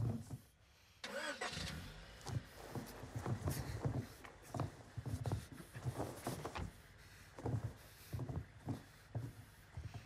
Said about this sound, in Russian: Ладно, заводи машину.